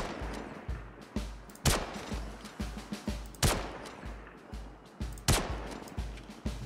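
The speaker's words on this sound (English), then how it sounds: "Rapid fire is one shot every 2 seconds" Rifle shots in Star Citizen at a measured rapid-fire pace of roughly one every two seconds, each a loud sharp crack, with quieter thumps and clatter between them.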